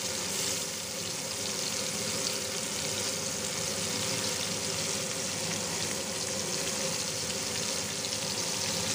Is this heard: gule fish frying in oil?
yes